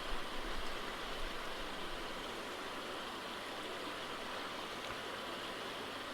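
Water pouring steadily into the middle chamber of a Nexus 220 aquarium filter, a continuous rushing wash with a low rumble, fairly quiet and unbroken for the whole stretch.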